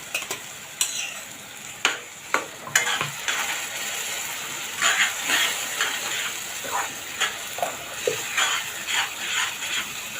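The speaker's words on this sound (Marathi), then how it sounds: "आता हे दोन मिनटं चांगली परतून घेऊया प्युरी चांगली" Tomato purée poured over browned onion sizzles steadily in hot oil, with a spoon scraping and clacking against the pan in sharp, irregular strokes, close and alone with no talk.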